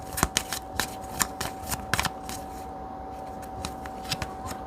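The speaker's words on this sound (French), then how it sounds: "je vais mettre aussi une carte ou deux ici" Tarot cards are shuffled and slapped down in a brisk series of crisp, close riffles and flicks over a steady background hum.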